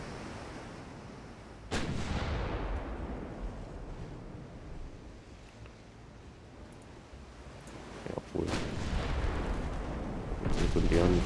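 Heavy warship guns fire shells in the naval combat game Ultimate Admiral: Dreadnoughts, with a few loud booming salvos spread across the clip over a steady rumble of sea and wind.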